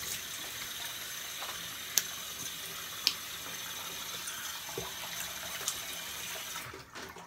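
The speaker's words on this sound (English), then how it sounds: "Cold water." Cold water runs steadily from a bathroom tap while shaving, an even hissing gush with a few small clicks and knocks before it cuts off near the end.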